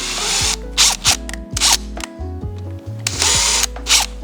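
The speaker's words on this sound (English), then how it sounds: "drill the rivets out" A handheld power drill whines in short, repeated bursts, spinning up and down as it bores out rivets on a Yamaha Raptor 700R ATV, loud and close with brief pauses between pulls.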